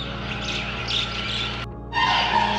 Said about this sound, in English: Look at this pheasant.